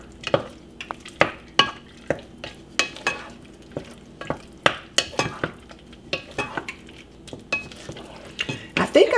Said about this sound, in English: So I'm going to give that a good stir.